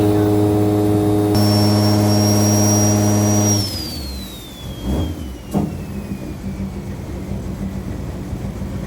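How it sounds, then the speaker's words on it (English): A loud turbocharged 1JZ engine in an S13 on a dyno roars steadily with a rising turbo whine on top, then cuts off and the whine spools down into a fading whistle amid clanks. "Hear how fast that turbo is already filling up."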